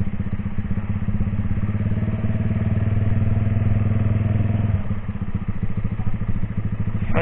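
A motorcycle idles close by on a night ride, its engine putting out a steady, loud, even chug that dips slightly and resettles partway through, with no talk over it.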